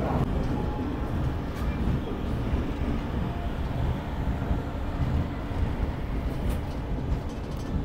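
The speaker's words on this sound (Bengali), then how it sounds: "আমার ট্রেন ছেড়ে দিল খড়গপুর রেলওয়ে স্টেশন থেকে" The Sri Jagannath Express rolls along after departing Kharagpur station, a steady loud rumble of wheels and carriages with continuous rattling and clatter throughout.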